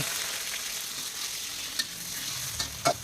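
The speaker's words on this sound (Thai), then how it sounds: "แล้วก็จะผัดให้กุ้งสุกในระดับหนึ่ง" Shrimp stir-fry in a pan with garlic already fried golden, giving a steady close sizzle and hiss with a few sharp scrapes or clinks near the end; no talking.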